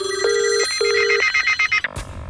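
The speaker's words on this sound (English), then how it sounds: "our evidence shows that the phones went mad." Several old-style telephones ring in repeated double bursts of bell tone, overlapping and insistent, before cutting off abruptly into a clatter.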